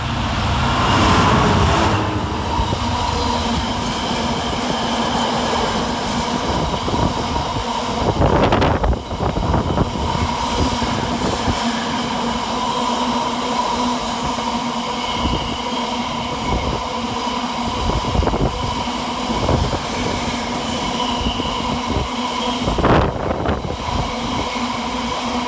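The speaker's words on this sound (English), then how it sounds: "Next freight train of the video is 66523, working 4M63 from Felixstowe North to Trafford Park FLT." Freight train headed by locomotive 66523 passes through Perry Barr station, a loud sustained rumble and rattle of wagons rolling by close to the platform for the whole stretch, with wind buffeting the microphone and no voices.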